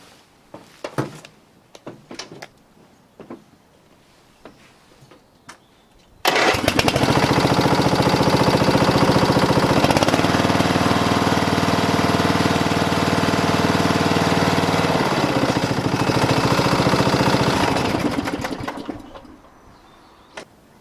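MTD Yardman DX70 ride-on mower with a noisy, worn exhaust silencer: after a few faint knocks, the small engine fires up and runs loud and steady for about twelve seconds before cutting off and winding down.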